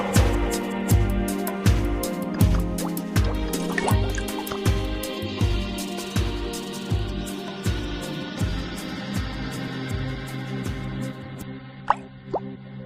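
Water at a sink during hand washing, heard as a steady run of rhythmic plops and drips close by with no voices.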